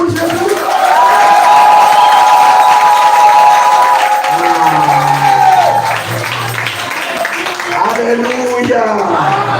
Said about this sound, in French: Est-ce que nous pouvons pousser les cris de Jean pour Jésus